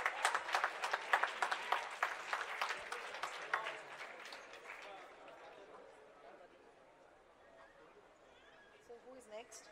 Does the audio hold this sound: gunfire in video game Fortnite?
no